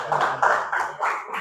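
Indonesian classroom students clap together in a quick rhythmic pattern, with a series of loud, close bursts of hand claps separated by short gaps.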